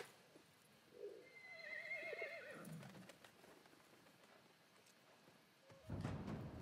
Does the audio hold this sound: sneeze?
no